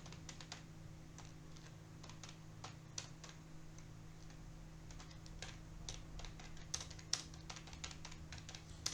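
Steady typing on a computer keyboard, a run of quick, light key clicks with irregular rhythm, fairly faint and close over a constant low electrical hum.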